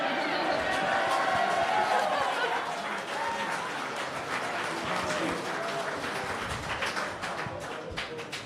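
Audience applause at a live debate event, a sustained even patter of clapping from a sizable crowd with faint chatter and a few chuckles beneath it, tapering slightly over time.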